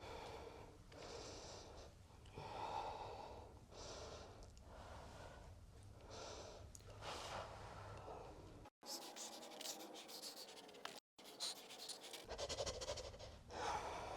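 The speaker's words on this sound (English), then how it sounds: "It's a breathing thing I learned at a gym with some other calisthenics trainers." Forceful, rhythmic breaths during a calisthenics strengthening exercise for skaters' knees and hips: close, repeated snort-like exhales about once a second, with brief pauses between sets and no talking.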